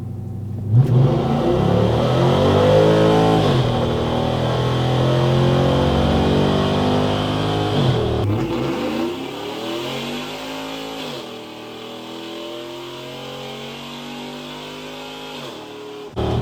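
A loud Chevrolet Silverado 5.3 V8 truck engine with a Texas Speed Stage 4 build revs hard on a dyno, pitch climbing through repeated sweeps, then drops and settles into a lower steady drone with a faint high whine.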